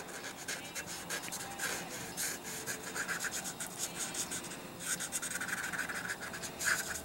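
A large-nib Spectrum Noir alcohol marker rubs and scratches steadily across paper while colouring fabric folds, with close, continuous dry strokes and no talking.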